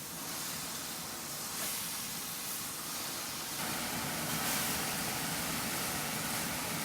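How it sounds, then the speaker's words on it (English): Beef sizzles in a hot cast iron wok for beef and broccoli with oyster sauce, giving a steady, close, continuous hiss that swells slightly louder partway through, with no talking. "Love that high sizzle. And this is a cast iron wok, so it really maintains that heat very well."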